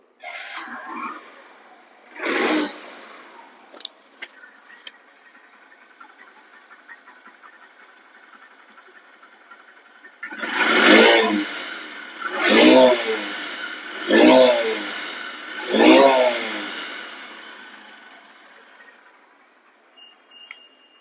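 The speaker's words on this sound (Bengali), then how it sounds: "সাউন্ড কোয়ালিটিও বাইকটির একদম নতুনের মতো আছে" A used motorcycle engine runs at a steady idle, then four loud revs about two seconds apart bring it up and let it fall back, close by, with an earlier short burst near the start.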